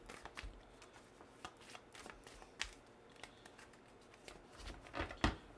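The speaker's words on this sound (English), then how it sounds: "I'm gonna shuffle again." A deck of playing cards shuffled at a tavern game table, soft riffling flicks and light papery taps, faint and close, ending in a sharper burst of riffles.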